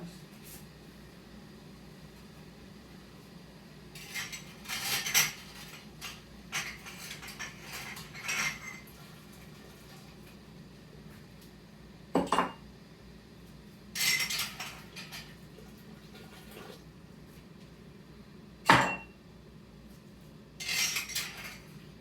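Glass canning jars lifted out and set down during home jelly making, giving scattered clinks and knocks in short bursts over a steady low room hum.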